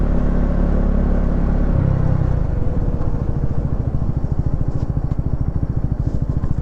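A Husqvarna Svartpilen with a modified airbox pulls under load, its engine a loud, close, throbbing rumble whose rapid firing pulses stay steady and dense throughout.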